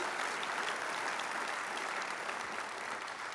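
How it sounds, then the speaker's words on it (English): At an award ceremony, the audience applauds three presenters, a steady, even wash of clapping that sounds quiet and somewhat distant, with no voices over it. "Give these three presenters another round of applause."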